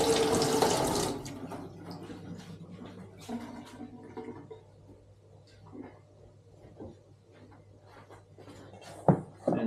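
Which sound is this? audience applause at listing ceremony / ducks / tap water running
tap water running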